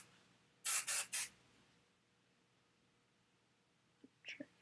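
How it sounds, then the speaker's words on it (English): Three short, close hisses of an aerosol hair spray in quick succession, followed by quiet and a few faint handling clicks. "And then I just spray."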